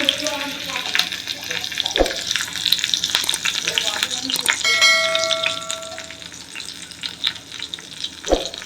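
Cumin seeds and green chillies sizzle in hot oil in a pan for a koshimbir tempering, a dense, steady frying hiss with two sharp knocks and some clinking of a spoon against the pan, heard up close.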